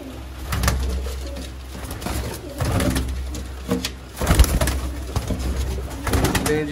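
Golden Sialkoti dab pigeons, a pair kept for sale, cooing in repeated low throaty bursts close by over a steady background rumble.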